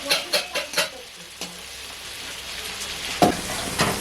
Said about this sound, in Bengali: এই আদা রসুন দিলাম একসাথে, এটা একটু ভালো করে ভেজে নিতে হবে।